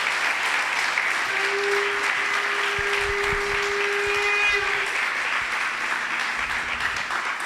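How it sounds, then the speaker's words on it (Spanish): A church congregation claps loudly and continuously through the whole stretch, a dense even roar of applause with a faint sustained tone running under it partway through. "Dele un aplauso fuerte al Señor."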